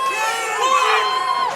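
Cheering section in a fight crowd at a BTC 15 combat sports event, a steady, loud roar of voices with shouting throughout the short stretch.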